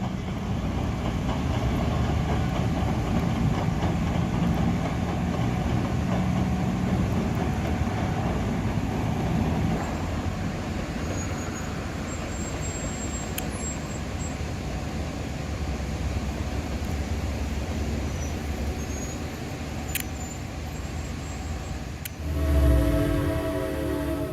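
A Reading and Northern passenger train, two coaches hauled by a pair of ex-Norfolk Southern diesel locomotives, rumbles past with a continuous, rolling roar of engines and wheels, a few brief horn notes, and a heavier surge near the end.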